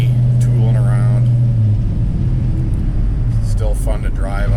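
A 1968 Dodge Charger fitted with an Edelbrock coil cruises along a road, its deep engine rumble droning loudly and steadily while someone talks over it.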